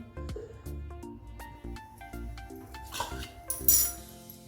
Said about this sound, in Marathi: कढई ठेवलेली आहे